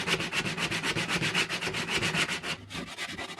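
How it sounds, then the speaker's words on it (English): An old sanding belt, held by hand, rubs over the contours of a wooden flag in quick, even back-and-forth strokes, a close, rhythmic scratchy rasp with a brief pause near the end. "I used an old sanding belt to sand down all the different contours and shapes of this flag"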